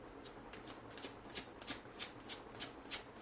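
Tarot cards shuffle close by in a quiet room, soft riffling bursts repeating at an even rhythm, with no talk.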